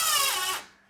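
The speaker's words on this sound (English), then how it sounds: "Tighten that down." A power drill drives a screw into sliding bypass closet door hardware, giving one short, close whir that winds down and fades out within a second.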